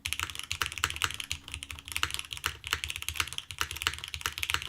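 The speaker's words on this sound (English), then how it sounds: "Actually, the granite and cherry switch combo is really nice here." Steady, close typing on an MMStudio Class100 mechanical keyboard fitted with granite and cherry switches, a dense run of crisp keystrokes with a full, slightly resonant tone and no voices.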